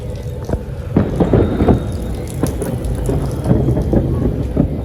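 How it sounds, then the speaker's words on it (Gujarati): Heavy rain falls during a thunderstorm in Surat, a dense steady roar close by with low thunder rumbles and sharper cracks rising through it, and no voices. "વરસાદ તો હજી ચાલુ જ છે"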